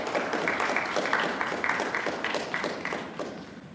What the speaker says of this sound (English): I think you should give yourselves a round of applause that you're here this evening.